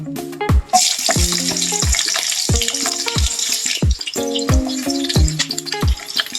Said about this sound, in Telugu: ఇప్పుడు దీంట్లో ఫస్ట్ ఆనియన్ వేసేస్తున్నా.